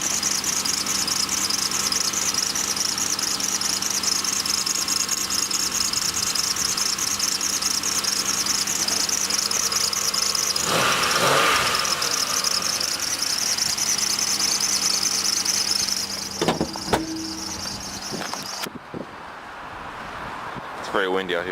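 A 3.4-liter 3400 V6 car engine idles after a cold start, a steady droning hum with a faint whine running throughout, then quieting near the end as the sound cuts out.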